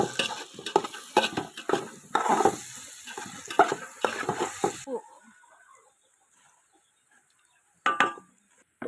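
A spoon stirs ginger garlic paste frying in a pan for paneer curry, giving a busy scraping, sizzling clatter for the first half before it falls quiet, with one brief clink near the end.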